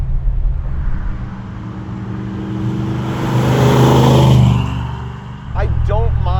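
A big-block 1973 El Camino SS engine drones steadily from inside the cab while driving, swelling louder for a moment before easing off, with people talking over it toward the end.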